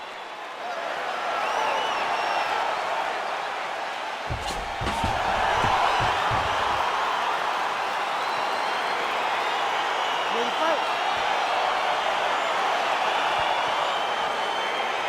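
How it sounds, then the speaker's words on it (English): A dense arena crowd roars steadily throughout a UFC 4 fight between Israel Adesanya and Paulo Costa on PS4, swelling slightly as the bout begins, with a few sharp thuds and bursts of noise near the start. "crowd getting excited as this fight gets underway"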